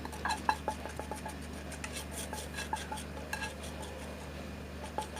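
Tempering stirred into a pot of mixed-vegetable sambar, a ladle scraping and lightly clinking against the pot in scattered close taps over a low steady background hum.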